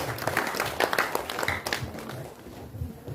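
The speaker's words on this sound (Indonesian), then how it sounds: "Kita berikan aplaus kepada Bapak Ibu" Audience applause at an Indonesian community organization's gathering in Keerom regency, a dense burst of clapping from a crowd that slowly thins out toward the end.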